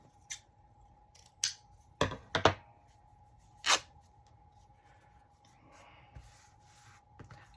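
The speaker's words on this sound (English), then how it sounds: "Lovely sound of tearing." Paper being torn for a handmade journal, a few sharp, brief rips spaced out over several seconds, close and quiet against a faint background hum.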